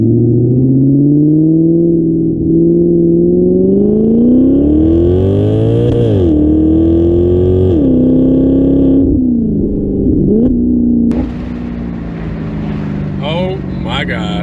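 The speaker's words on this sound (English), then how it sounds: "So I put it in a neutral really quick to give it a couple of revs." A Maserati GranCabrio V8 convertible revs in neutral, its engine note rising and falling through several blips, then pulls away with a sustained roar that fades toward the end, loud and close.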